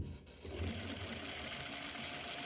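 A sewing machine stitching fabric for a tie top garment, running as a steady, close, rapid mechanical whir with no talking.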